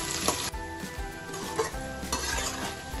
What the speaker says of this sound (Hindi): देखिए बीच बीच में इसे चलाते रहना है कि हमारी प्याज जल नहीं जाए